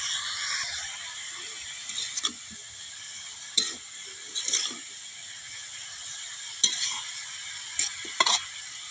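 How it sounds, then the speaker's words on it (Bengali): Shredded cabbage sizzles quietly in a pan while a utensil stirs it, giving a low steady frying hiss broken by several sharp scraping clinks at irregular intervals, with no talking. "একটু নাড়াচাড়া করবো বন্ধুরা।"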